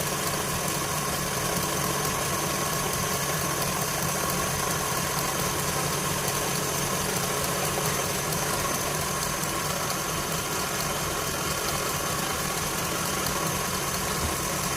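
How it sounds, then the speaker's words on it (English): An electric mixer whips a no-churn ice cream mixture until it thickens, giving a loud, steady motor drone that runs unbroken with no talking. "So you keep whipping till it's thickened a bit."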